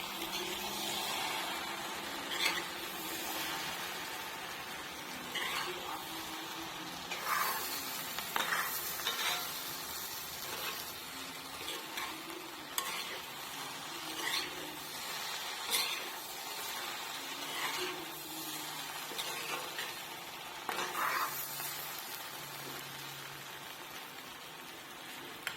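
Paneer pieces with two green chillies being stirred in a frying pan for matar paneer, a steady close sizzle with scraping spoon strokes, no talking.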